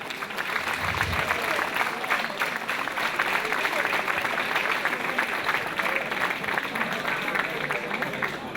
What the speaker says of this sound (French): On peut applaudir cette belle brochette de jeunes